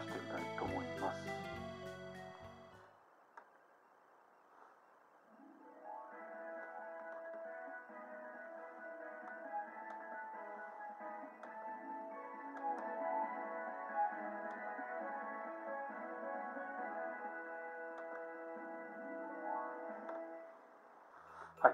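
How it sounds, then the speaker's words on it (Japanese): Music plays through a KENWOOD CR-iP500 stereo fed by a Bluetooth receiver, sounding muffled and dull. It starts after a brief clicky lead-in and a quiet gap, then runs steadily at moderate volume until it cuts off. "試しにちょっと曲を流してみたいと思います"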